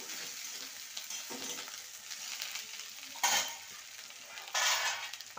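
Food with turmeric is stirred in a frying pan, quiet sizzling broken by a few louder bursts of scraping and hissing as the spoon moves through.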